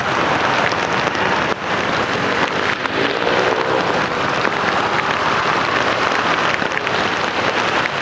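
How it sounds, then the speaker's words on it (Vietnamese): Steady, heavy rain patters densely on surfaces nearby on a Saigon street, a constant hiss of drops with no pauses. "anh chị có nghe mưa tiếng mưa rơi lập bọp không?"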